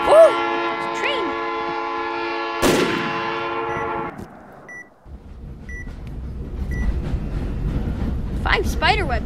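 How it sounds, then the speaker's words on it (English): A video game train horn blares as a sustained, loud harmonic blast while the train rushes by, then fades into rumbling track noise with shouted reactions near the end. "Oh! It's a train!"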